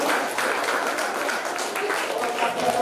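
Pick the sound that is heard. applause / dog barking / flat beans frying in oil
applause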